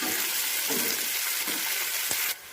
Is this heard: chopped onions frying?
yes